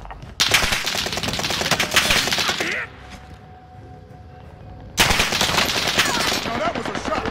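Video game gunfire in bursts of dense automatic fire, loud and continuous for a couple of seconds, a brief quieter pause, then another long rattling burst.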